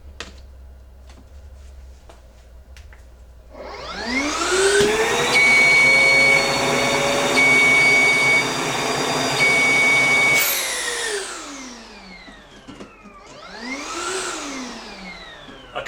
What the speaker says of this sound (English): So it gives you that high-pitched audio warning sound and the flashing light to inform you as the operator that something is wrong